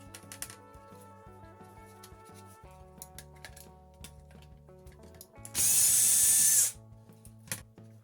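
Sheet aluminum being pried and stripped off scrap circuit boards, heard as scattered metallic clicks and scrapes over a low hum, with one loud harsh grinding burst about a second long partway through.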